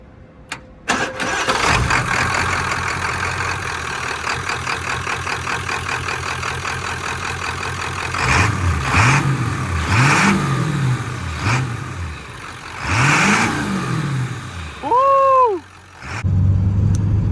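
A diesel truck engine with a newly installed cold air intake cranks and fires up, then settles into a loud, steady close-up idle with several sharp revs and a brief whine near the end.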